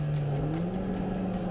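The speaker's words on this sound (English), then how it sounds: "As the cars accelerated their way over the timing line" Race cars at Silverstone accelerate hard over the timing line, a loud continuous engine drone rising in pitch with a second engine note joining, close and dominant with no talk.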